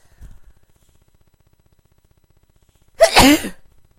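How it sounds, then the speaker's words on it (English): One loud, sudden sneeze bursts out after a stretch of near silence, preceded by a faint brief rustle. "Sorry, I'm going to sneeze."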